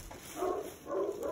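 A dog barking faintly in the background, two soft muffled barks about half a second apart, distant and quiet.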